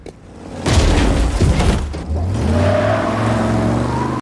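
Film scene in which a car strikes a man: a sudden loud impact with crashing and shattering, then a car engine revving and roaring away, all close and forceful.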